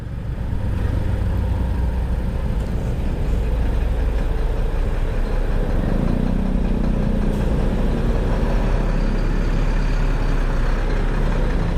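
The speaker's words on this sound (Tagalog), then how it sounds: "San Mateo, traffic. Yun, mga malalaking truck oh." Heavy traffic in San Mateo with large trucks, a loud continuous low engine rumble and idling drone close by, steady throughout with no talking.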